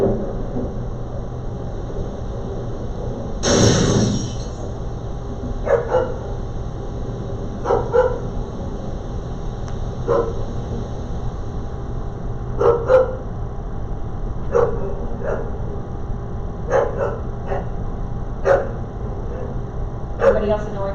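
Dog barks played as a sound effect in a classroom, a loud burst near the start followed by scattered sharp yips and barks over steady background hum, with speech-like murmur underneath.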